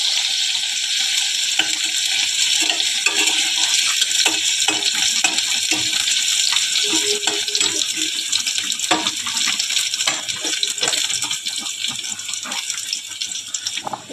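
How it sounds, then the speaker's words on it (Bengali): Onions fry crisp in hot oil in a wok for a brown rice biryani, a dense continuous crackle and hiss punctuated by frequent stirring clicks. "এবারে আমি পেঁয়াজটা লাল করে ভেজে নেব মুচমুচে করে।"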